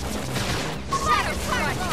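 Dense Xenoblade Chronicles X combat noise from a flame grenade attack, bursts and booms playing continuously, with shouted voices and a brief tonal blip over the clatter.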